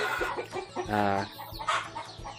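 Australorp laying hens cluck in a farm run, a rooster among them, with a string of close, choppy clucks and one drawn-out call in the middle, all loud and near.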